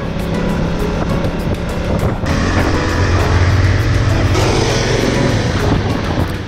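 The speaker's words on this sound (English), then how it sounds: "the bridges of Ladakh and the sound they make" Motorcycles riding over a bridge in Ladakh, engines droning under steady wind rush, with the road tone shifting abruptly twice as the bikes roll across.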